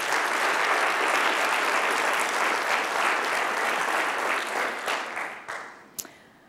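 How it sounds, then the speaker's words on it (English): Sustained applause from a State of the College audience for the associate deans, loud and even for about five seconds before tapering off into a few last claps. "So please give them a round of applause."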